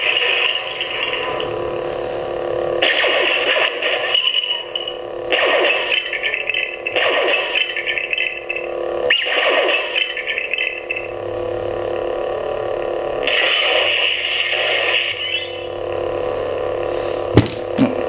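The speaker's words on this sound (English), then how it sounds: "You can hear the FX packs running on it." Sound font effects from an Igniter Mini illuminated lightsaber with a red blade: a buzzing electronic hum broken into repeated bursts and swells, with a few sharp crackling hits and a short low rumble near the end.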